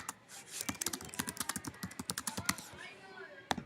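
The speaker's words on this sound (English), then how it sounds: "I can reply to this notice by typing in down here what I want to say in response to that" Rapid, uneven keystrokes on a computer keyboard type a reply, a close burst of clicks with a few pauses and a final tap.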